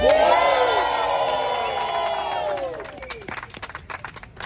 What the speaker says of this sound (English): a cheer for the wonderful cyclists